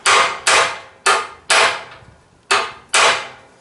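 Six sharp hammer blows on a pallet jack ring out loud and close, falling in uneven pairs with short metallic decays and brief gaps between them.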